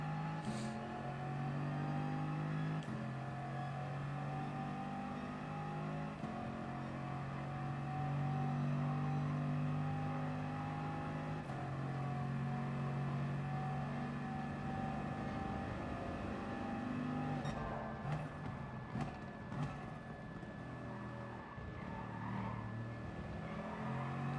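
A race car engine in a racing video game revs and accelerates continuously through seven gears, the pitch climbing and dropping with each gear change. The engine is loud and steady throughout, with a busier stretch near the end.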